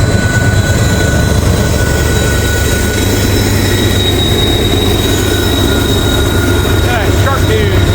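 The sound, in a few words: Norfolk Southern freight train NS 143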